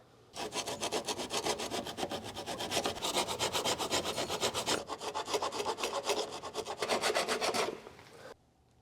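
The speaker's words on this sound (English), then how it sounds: "let's get a file and clean up that hex so that we can get our 7/8 socket on there" A hand file rasping the rusty hex of a drain plug on a 1938 Ford flathead barn find, rapid rhythmic strokes that are close and steady for about eight seconds, then stop.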